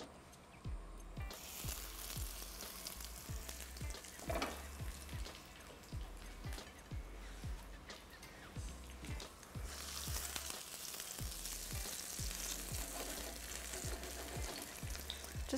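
Crumbed chicken coated in mustard and herbs fries in a hot pan with a steady, dense sizzle and crackle that swells slightly partway through, close and continuous, with no talking.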